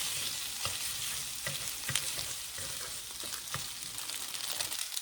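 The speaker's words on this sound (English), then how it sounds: "Continue stir frying and mixing until the sauce is evenly distributed." Udon noodles sizzling loudly in a hot pan with sauce, with continuous frying hiss and irregular scrapes and clatters from stirring and mixing.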